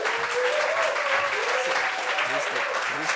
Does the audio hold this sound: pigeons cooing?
no